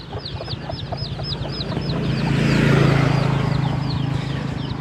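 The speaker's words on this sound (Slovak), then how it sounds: "Tam vzadu je veľký moriak." A large turkey gobbles at a distance in a rural Lao village, its rapid warbling calls repeating steadily across the clip beside clucking chickens and faint background hum.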